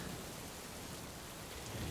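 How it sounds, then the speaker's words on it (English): Rain pours down outdoors at a landscape spot, a dense, even hiss without pauses, soft and somewhat distant, holding steady from start to end. "It's really raining now."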